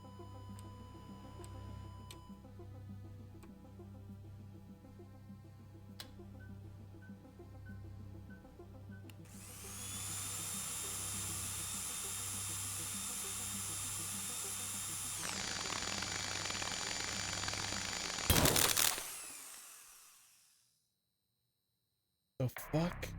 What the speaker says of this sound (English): Proceed to drill the surface.